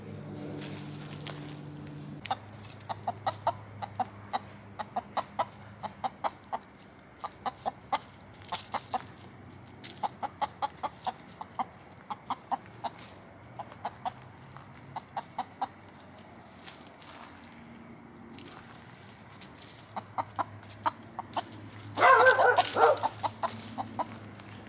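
A backyard chicken clucks in steady, repeated short bursts close to the microphone, with a rougher flurry of scratchy noise near the end and no voices.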